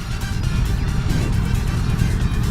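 A Triumph motorcycle from the 2023 demo tour rumbles steadily as the rider downshifts, a loud, close, continuous engine drone with slight fluttering pulses and no voices.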